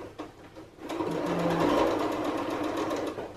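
A sewing machine runs steadily as it stitches a jacket, and the fabric is guided along to keep it from puckering. The close, continuous whirring motor hum starts after a brief pause and carries on with no speech.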